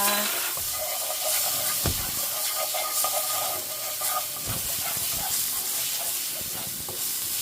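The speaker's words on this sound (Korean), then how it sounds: "마늘 향이 나오도록 충분히 볶아줍니다." Minced garlic stir-fries in oil in a pan, giving a continuous loud hissing sizzle with scattered scraping knocks from the stirring.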